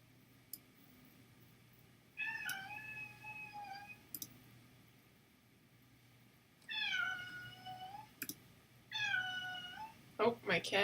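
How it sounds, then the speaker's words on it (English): A house cat meows at home during an online art discussion: three separate drawn-out, wavering meows spaced a few seconds apart, close and clear over a quiet room hum, followed by a brief burst of clicking at the end. "my cat is meowing in your performance"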